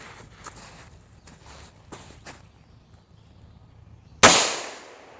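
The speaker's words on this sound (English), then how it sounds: "Gotta find a steel plate to shoot." A single sharp shot from a Nagant 1895 revolver fired at a steel plate outdoors, one loud crack near the end after quiet rustling and a few soft footsteps.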